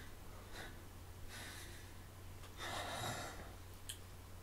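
Heavy breathing from the video game Catherine: faint, airy gasps and snorting breaths that come in several short bursts over a quiet background hum.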